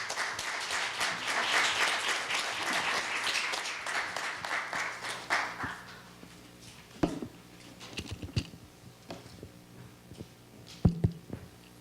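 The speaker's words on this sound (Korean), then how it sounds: "큰 박수 부탁드리겠습니다" A lecture audience at a university special lecture gives a welcoming round of applause, dense clapping that fades out after about six seconds, followed by scattered handling noises and a few taps.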